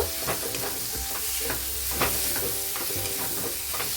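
Fried mixed vegetables being sautéed with spices in a pan, a steady close sizzle with repeated scrapes and knocks of the stirring spoon, no voices.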